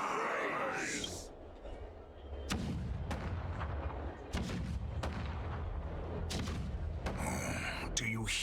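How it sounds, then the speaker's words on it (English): Cannons firing in the Honkai Star Rail video game, a series of deep booming blasts at irregular intervals over a low rumbling bed, fairly close, with a voice speaking beneath the barrage. "Oh, do you hear that? The rumble of the cannons."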